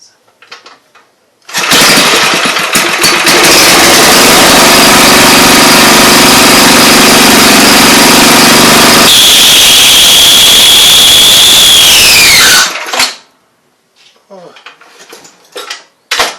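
5 HP Briggs and Stratton engine roaring loudly up close, with a shrill metallic screech from a dirty clutch rising over the running engine partway through, then the engine cuts out, leaving faint clatter afterward.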